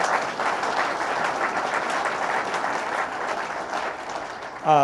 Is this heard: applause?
yes